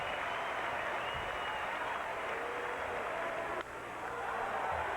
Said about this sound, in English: they are on their feet applauding the Wizard of Oz